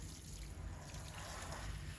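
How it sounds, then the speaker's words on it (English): Steady water rinsing over a Cavalier dog's ear during grooming, a continuous close splashing hiss without pauses. "Rinsing her ear."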